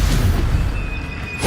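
Incendio fire spell blast in the Hogwarts Legacy game, a loud, dense, roaring burst of flame that holds steady for over a second before a short flare at the end.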